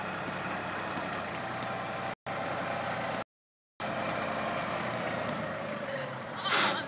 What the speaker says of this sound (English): There goes Hannah on a tractor.